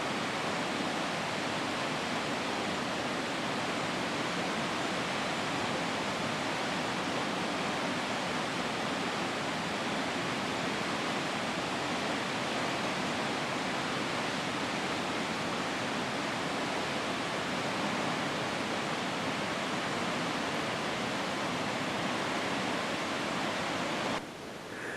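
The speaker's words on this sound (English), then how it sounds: "At this point in the hike, we're actually above the waterfall head" A waterfall on a hiking trail in Tahiti roars as a steady, dense wash of falling water, loud and unchanging throughout with no voices.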